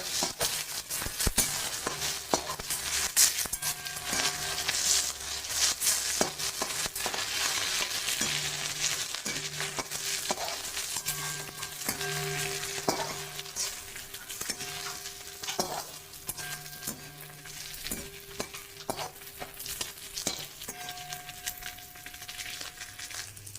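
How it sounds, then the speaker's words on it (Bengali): Onions and capsicum fry in a pan for a dry chicken dish, giving a constant sizzle while a utensil scrapes and stirs in repeated strokes, close and steady, with no voices. "তো পেঁয়াজ আর ক্যাপসিকাম গুলো দিয়ে এবার নেড়ে নেবো।"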